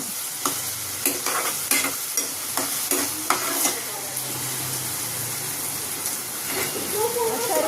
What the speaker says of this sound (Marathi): कांदा तसं चांगला परतून घ्यायचा, सोनेरी रंग होईपर्यंत